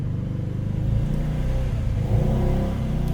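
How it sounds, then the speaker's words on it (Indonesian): Motorcycle engine passing by outside a home garage, a steady mid-pitched drone that swells louder around the middle and again toward the end before easing off. "Sorry, dari tadi suara motor tuh lewat kayak gimana"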